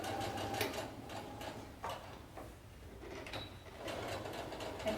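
Sewing machine stitching a seam on a fabric face mask, quiet close-up mechanical whirring and needle clatter that comes in short bursts with brief pauses and small clicks between them.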